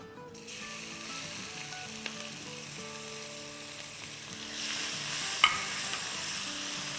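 Crushed ginger, green chillies and garlic frying in hot oil with spices for a potato sabzi, a steady close sizzle that swells louder toward the end, with a faint clink of a spoon, no talking.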